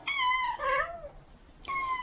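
Hungry cats meow repeatedly at close range, two long drawn-out meows back to back and then a third after a short pause, loud and clear with no talking.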